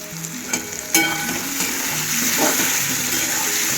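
Spinach tossed into a hot pan with steamed potatoes sizzles loudly and steadily, with a few clanks of stirring near the start and a continuous frying hiss throughout.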